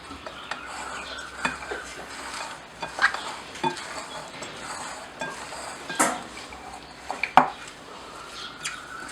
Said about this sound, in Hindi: अब हम इसे अच्छे से मिक्स कर देंगे।